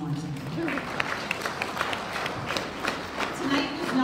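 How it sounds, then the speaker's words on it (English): Volunteers at a town appreciation evening in High River clap together, a dense crowd applause ringing steadily for several seconds with voices mixed in beneath it. "So I want you to clap for yourselves one more time."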